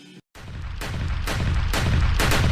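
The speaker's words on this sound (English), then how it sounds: "Shots fired." Rapid volleys of gunfire boom loudly after a brief silent gap, shots overlapping into a dense, rolling barrage that builds in intensity.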